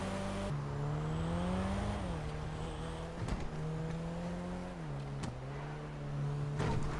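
A car engine in the GTA video game revs in a faint, steady humming drone, its pitch sliding up and down in several smooth swells with a few brief clicks, no voices present.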